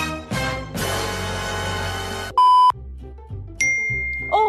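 A mobile phone sounds a loud electronic notification beep, a bright steady tone followed by a second shorter chime, amid background music.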